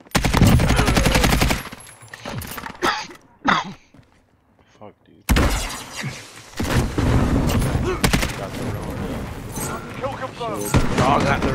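Bursts of rapid gunfire and explosions from the Modern Warfare video game crackle in the foreground, broken by a short quiet gap, with a player's voice talking over the action.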